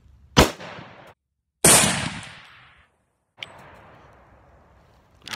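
Old, rusty, faulty shotgun firing two sharp, loud blasts about a second apart, each trailing off into a decaying echo, then a fainter crack and another onset at the very end.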